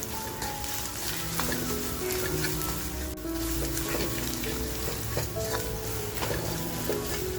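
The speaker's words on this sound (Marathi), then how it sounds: "बघा, मसाला सुद्धा आपला खमंग असा परतवून झालाय." Homemade all-in-one masala with onion stirred and frying in a pan for a spicy village-style vazdi curry, with a steady close sizzle and repeated scraping strokes of the spoon throughout.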